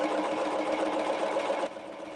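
A serger sewing machine stitching fabric runs at speed with a steady, fast mechanical whir and rattle, close and continuous, easing slightly near the end.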